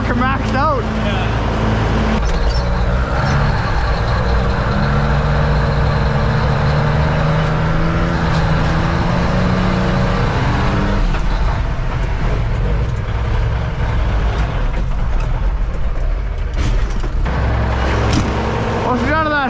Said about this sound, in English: And the old boom truck's fucking maxed out.